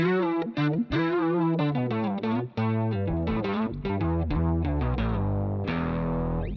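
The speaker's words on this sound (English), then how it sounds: "this is kind of like the most mean octaver pedal you've heard in a while" A gritty guitar riff runs through a heavy octave effect, doubling notes with a thick, distorted low undertone in a choppy, rhythmic pattern.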